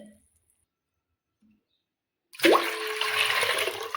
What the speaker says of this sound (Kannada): 2 ಚರಿಗೆ ನೀರು ಹಾಕ್ತೀನಿ.